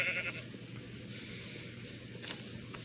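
Sheep and goats bleating in Minecraft Bedrock Edition, several overlapping nasal bleats repeating through the stretch over a steady background hum, fairly close and moderately loud.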